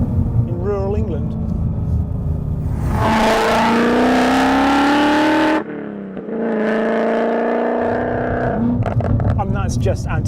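A sports car's exhaust revs hard in long, rising roars with a sudden cut in between, while a person talks over the engine at the start and end.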